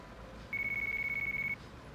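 In the video game Yakuza 5, a telephone rings with a steady electronic trill lasting about a second, clear over a low room hum.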